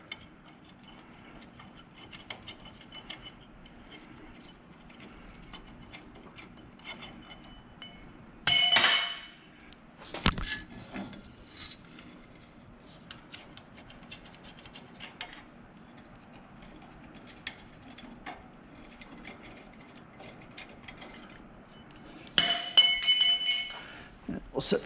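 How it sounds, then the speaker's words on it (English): Metallic clinks, rattles and scattered ratcheting come from bolts being unthreaded from the sway bar U-bolts on a Chevy Camaro, mostly faint and intermittent with a few louder bursts, while a person talks quietly throughout. "Now we're going to unthread the bolts from the U-bolts."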